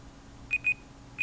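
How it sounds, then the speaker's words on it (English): A kitchen-style timer goes off with three short, high electronic beeps: two in quick succession, a pause, then a third. The beeps are clear and fairly loud against a quiet room, with no talking. "Oh, stupid timer. So freaking annoying."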